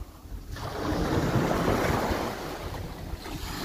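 Ocean waves roll in against a shore of large armour stone blocks, a steady wash of surf with wind noise that swells after the first half second and eases slightly toward the end.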